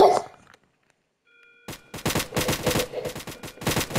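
Rapid gunfire in Roblox bursts in after a near-silent pause, a dense run of sharp, loud shots in quick uneven clusters with no voices over it.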